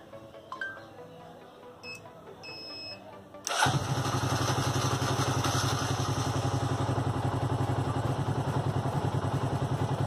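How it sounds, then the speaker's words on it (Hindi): A motorcycle engine on a smart bike rigged with Arduino, Bluetooth and an L293D board for voice control cranks and catches, then runs at a steady loud idle with dense rhythmic chatter for several seconds. "Engine start."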